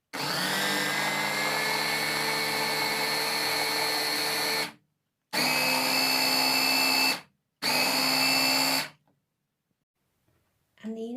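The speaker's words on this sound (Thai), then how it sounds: "จะไปใส่เครื่องปั่นอีกทีนะคะ" An electric blender whirs through a low-sugar coconut milk ice cream mixture made from canned coconut milk. A long, loud burst is followed by two shorter pulses, then a brief restart at the end.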